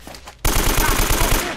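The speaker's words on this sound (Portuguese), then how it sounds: "Eu morri de metralhadora." Automatic machine-gun fire in the video game Uncharted erupts after a brief quiet moment, a loud, rapid burst of about a dozen evenly spaced shots.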